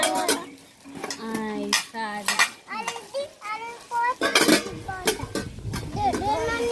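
Large, medium and small containers being handled indoors, with hard clicks and knocks of lids and plastic under continuous conversation from adults and a child.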